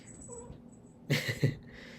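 A pet cat meows in the background of a quiet indoor room, a few faint short cries rising briefly above the low room tone.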